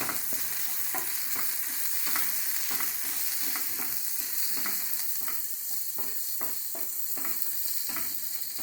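Mushrooms for a pepper fry sizzle steadily in a frying pan while a utensil stirs them in repeated scraping strokes, a continuous close crackle with no talking.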